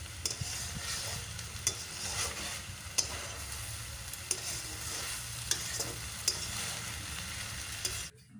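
Amadi fish sautéing with Malabar spinach fruits over a high gas flame, a soft steady sizzle punctuated by regular spatula taps against the pan, ending abruptly; no speech.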